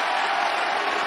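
A wrestling arena crowd at AEW Dynamite roars and cheers in a loud, continuous wash of noise that lasts about a second.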